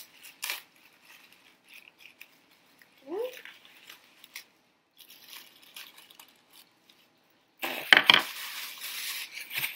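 Scissors snip through string or yarn in a few faint, short cuts with quiet pauses between them, ending in a louder rustle near the end.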